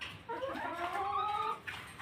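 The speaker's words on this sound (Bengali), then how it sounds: "আমার মুরগিগুলো দেখানোর জন্য।" Farm chickens clucking, a run of tonal, warbling calls from a flock of Pakistani-breed hens close at hand, sounding almost without a break over a couple of seconds, with no talking.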